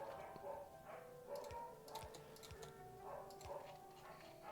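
A dog barks faintly in a video game, a few short yelps repeating at a loose rhythm over a soft background of ticking and clicking.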